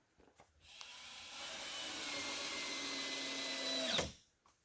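A power drill driving a screw into a front porch step whirs steadily for about three seconds, straining, then cuts off abruptly as the bit snaps. Faint and close, no talk.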